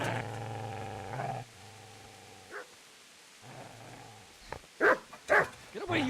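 In Kingdom Come: Deliverance, a dog growls low and steadily, then lets out a few loud, close barks.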